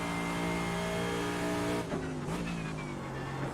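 A race car engine in the iRacing sim at Belle Isle drones loudly at high, steady revs, then drops sharply as the driver lifts and shifts before climbing back up.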